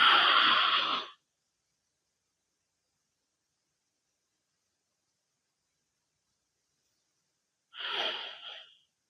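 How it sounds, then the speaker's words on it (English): Loud, exaggerated breaths through the nose during a Budokon yoga flow, one long forceful exhale at the start and another after several seconds of silence, close to the mic. "You'll see I'm really exaggerating my breath, almost creating this heat in my body"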